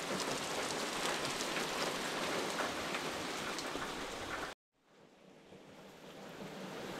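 Steady rain falling on a calm summer night, a dense even hiss that cuts off abruptly midway, then returns fainter and gradually swells again.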